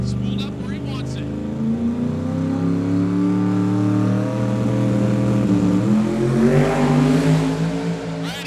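Drag race car at a Sick Week event in Bradenton builds engine revs, the tone climbing steadily and then surging as it launches, loud and close, with a commentator talking over it.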